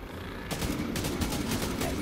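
Rapid bursts of machine gun fire in Tom Clancy's The Division 2 rattle in a fast, even rhythm, close and loud, after a brief quieter lead-in.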